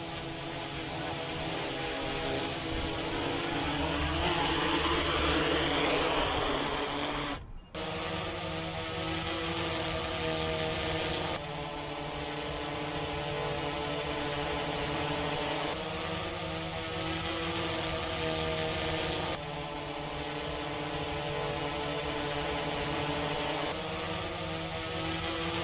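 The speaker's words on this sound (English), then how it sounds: "Are these new low noise props low noise?" An Autel EVO 2 drone with low-noise propellers hovers nearby with a steady, high-pitched propeller whir, broken by a few short cuts between stretches of the same buzzing drone.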